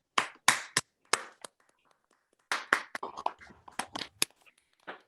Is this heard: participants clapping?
yes